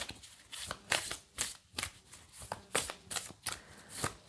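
Tarot cards shuffled by hand, a series of close, soft papery riffles and slaps in an uneven rhythm, quiet and alone with no talking.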